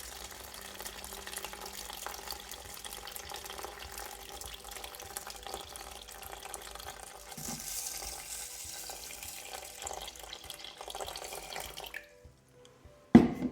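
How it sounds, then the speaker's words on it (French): Water runs steadily from a tap onto rice in a Cookeo multicooker, a continuous close splashing flow lasting several seconds before cutting off, followed by a brief clunk. "Et maintenant, je couvre avec de l'eau."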